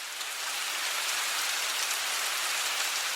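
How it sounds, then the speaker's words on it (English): Steady rain falls outdoors in a town, a dense, even hiss of drops striking surfaces that holds at a constant level throughout, with no voices. "On the day I visited, it was raining."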